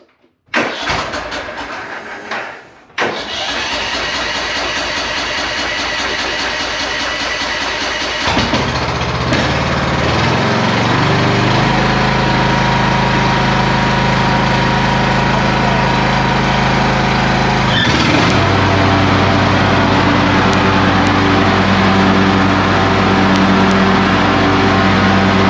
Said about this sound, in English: let's compare that to a normal riding lawnmower.